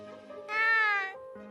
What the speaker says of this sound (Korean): 어머, 귀여운 고양이다.